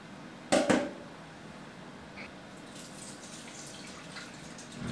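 A glass fermentation weight lifted from fermented cayenne pepper brine in a jar: a single short watery clunk and splash, followed by a few faint drips in a quiet room.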